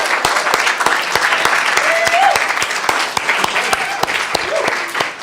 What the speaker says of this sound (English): Let's give a big round of applause to Keishin for a wonderful sermon.